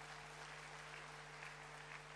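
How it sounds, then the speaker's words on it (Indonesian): A church congregation claps during a sermon on heartfelt love, a broad, even wash of applause that stays steady throughout, fairly faint and distant, with a low electrical hum beneath it and no speech. "Beri tepuk tangan yang meriah betul."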